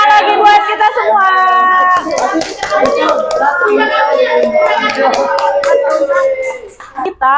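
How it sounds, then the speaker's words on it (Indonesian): Children in an Indonesian primary classroom clapping together, brisk hand claps mixed with lively children's voices and singing-like chatter that stay prominent over the clapping. "Tepuk tangan lagi buat kita semua."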